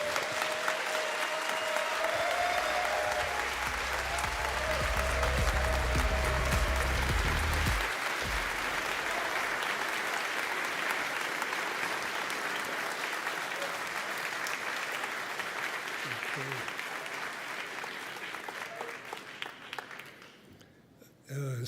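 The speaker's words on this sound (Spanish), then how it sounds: "quiero dar la bienvenida con un aplauso cerrado a Werner Herzog" A conference audience gives sustained, steady applause to welcome filmmaker Werner Herzog at the Congreso Futuro in Chile, the clapping dense and loud throughout before fading out near the end.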